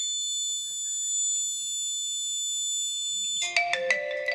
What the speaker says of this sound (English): alarm on, orange LED is on.